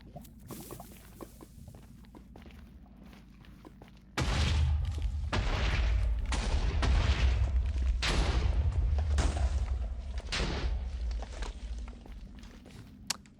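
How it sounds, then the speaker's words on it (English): A video game TNT explosion near lava gives a sudden loud boom followed by several seconds of rumbling, crackling bursts, after quieter clicks and game noise. "Let me see if I can get this TNT here through the lava."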